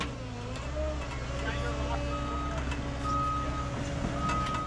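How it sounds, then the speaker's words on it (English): A water truck loaded with water rumbles nearby with a steady engine drone while reversing beeps sound intermittently, as people talk over it. "Chad just showed up with his water truck full of water"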